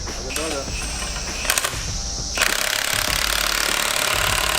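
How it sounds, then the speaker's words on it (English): Rapid hammering from an air tool pushing bushings out rattles loudly and continuously. It follows a few shorter bursts and scrapes, and a person speaks briefly. "pushing bushings out, guys"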